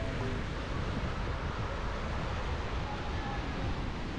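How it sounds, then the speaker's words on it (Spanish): Ocean waves wash continuously onto a Cozumel beach with rocks, a dense, steady rumbling surf close by with wind buffeting the microphone and no voices. "Aquí están las olas."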